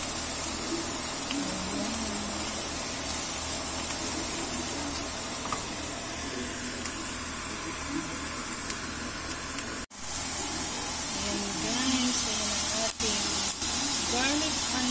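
Garlic, onions and mushrooms sizzle steadily in a hot pan with a dense, close hiss that barely varies, while a voice talks faintly beneath it.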